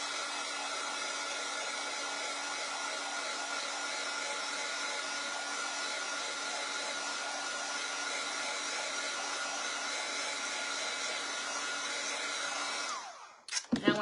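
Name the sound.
hair dryer drying a washed chalk-painted piece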